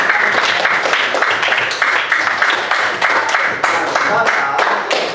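A class applauds a classmate with brisk, dense clapping that carries through the whole stretch, close and fairly loud, with some voices mixed in.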